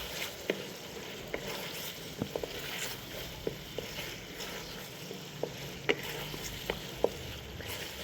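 Arbi (taro root) curry with masala sizzles and fries steadily in a pan, with scattered scraping taps of a spoon stirring it, close and continuous throughout.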